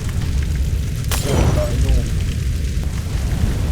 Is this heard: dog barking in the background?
no